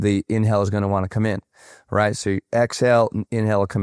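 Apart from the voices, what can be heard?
No distinct noise like a dog, phone or traffic.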